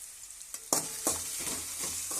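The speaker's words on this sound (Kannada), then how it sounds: "ಅದಷ್ಟೊತ್ತಿಗೆ ಆಲೂಗಡ್ಡೆ ಫ್ರೈ ಆಗ್ಬೇಕ್ರಿ" Potato pieces sizzling and frying in a pan with salt added for a spiced potato rice dish, a steady hiss broken by a few sharp stirring scrapes close up, no talking.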